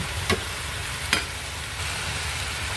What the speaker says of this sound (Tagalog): So, ready na siya para ihalo natin yung kanin.